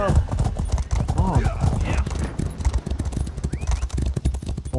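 Horses galloping with rapid clip-clop hoofbeats and an occasional whinny during a player-versus-player battle outside Farragut keep in Elder Scrolls Online, running steadily under excited talking throughout.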